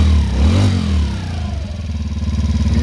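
A 2016 Yamaha Raptor 90 automatic ATV engine is blipped with the throttle after carb cleaning, rising in a quick rev then settling into a rapid, even idle pulse, close and loud.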